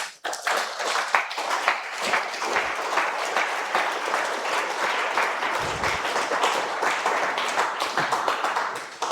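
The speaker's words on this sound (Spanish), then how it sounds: "Den un aplauso al Rey" A church congregation applauds continuously for several seconds, a dense, close wash of many hands clapping at an even level.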